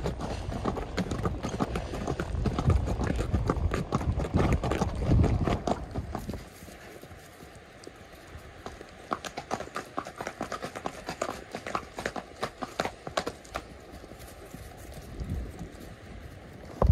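Horses' hooves clip-clop on a mountain path in the Vanoi valley at Canal San Bovo, a steady rhythmic clatter that starts over louder rustling and movement, then continues as crisp, separate hoof strikes.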